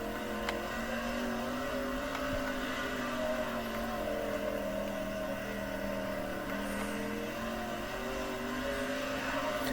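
Street stock race car engine on an outlap in the World of Outlaws video game, a steady droning roar with shifting pitch and small rises in revs, loud and continuous with no talk.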